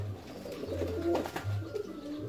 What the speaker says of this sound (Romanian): Dar să revenim la baia porumbeilor.